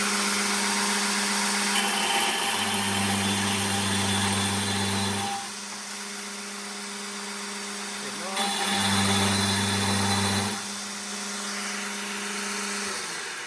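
A powered tube notcher cuts into a tube clamped in a vise, giving a steady loud mechanical whine with a low hum that swells and eases as the cutter bites, continuous throughout.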